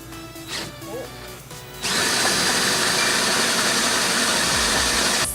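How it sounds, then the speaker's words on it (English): A grain mill cranks through a bucket of barley malt for home brewing, starting with quieter handling noises before a loud, steady motorized grinding roar sets in and runs on continuously. "Step number 1, gotta mill the grain"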